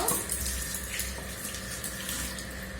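Something is rinsed under a running kitchen tap, a steady close splash and hiss of flowing water lasting throughout, with no talking.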